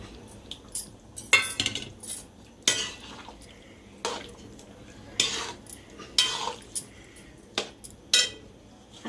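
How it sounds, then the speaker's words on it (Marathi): Eggplants being added to a pot of undhiyu, with sharp metallic clinks and scrapes of a spoon against the cookware. The knocks come in separate bursts with quiet stretches between them. "आणि आता आपण ही वांगी घालणार आहोत त्याच्यात"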